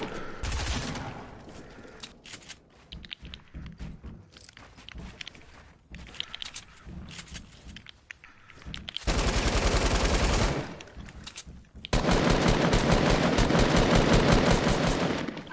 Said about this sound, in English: I've got like two magazines left in my gun.